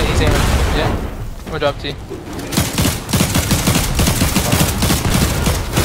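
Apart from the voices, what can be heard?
gunfire in the video game Fortnite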